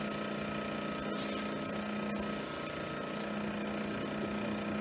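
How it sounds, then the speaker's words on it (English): Sanding a wooden ornament spinning on a lathe gives a continuous loud whirring rub with a steady motor drone and brief dips, with no speech over it. "So we could finish sanding here now."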